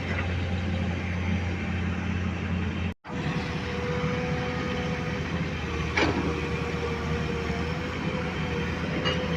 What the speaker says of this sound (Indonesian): Dan itu adalah truk yang sedang membongkar atau menurunkan tanahnya bosku.